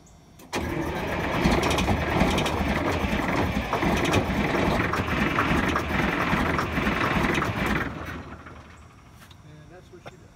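A Detroit Diesel 8V71 engine cranks over steadily for several seconds with a dense rumbling churn, nearly catching but not running, then winds down as people talk nearby.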